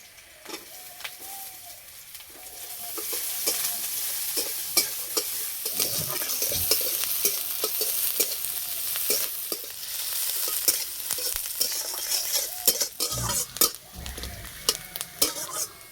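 Onions fry in oil with crushed garlic and slit green chillies in a kadai, a continuous close sizzle broken by frequent sharp scrapes and clinks of a spatula stirring against the metal pan.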